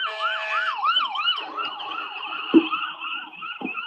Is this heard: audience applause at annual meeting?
no